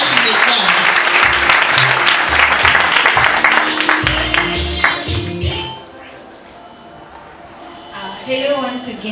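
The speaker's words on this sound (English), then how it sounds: "Let's give them a good round of applause" Applause for innovation award winners at a graduation ceremony in Nairobi, loud and sustained for several seconds, then fading to a lull before a voice speaks near the end.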